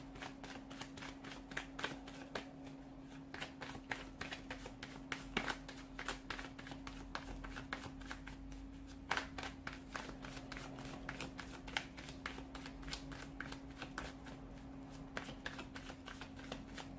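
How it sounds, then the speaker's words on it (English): Tarot cards are shuffled over and over in dense rapid riffles and soft slaps, close and quiet, running steadily for a long stretch with no talk. "Let's give the cards a shuffle and begin"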